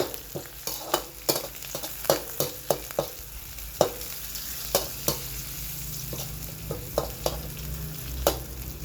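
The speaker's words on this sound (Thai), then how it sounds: "ใส่น้ำมันแล้วครับ แล้วก็มีพริกกระเทียมครับ ผัดให้หอมกันเลยครับ" Chili and garlic stir-fry in hot oil under a steady sizzle, punctuated by frequent rhythmic clacks of a spatula against the pan, close up with no voices.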